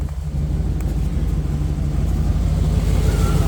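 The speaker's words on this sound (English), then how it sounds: "she's fired right up and idling right away" A 1990 Chevy 1500 Silverado pickup engine idling steadily right after an in-line fuel filter replacement, a loud close low rumble that holds even without talk.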